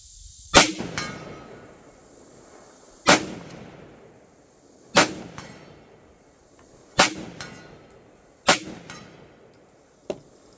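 Rifle shots fired through a Firefield Impact XLT reflex sight strike a 16-inch steel gong at 100 yards. Five or six sharp cracks each ring into a metallic clang, spaced about two seconds apart, with a short decay after each.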